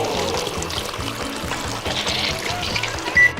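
Concrete pours into a mold for a miniature LEGO-style construction project, a continuous wet, gurgling pour with a pulsing low rhythm lasting the whole short moment, near and fairly loud, without talk.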